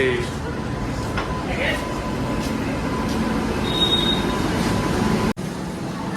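Inside a moving passenger train carriage, a steady loud rumble of wheels on the track carries on throughout, with a faint high squeal partway through.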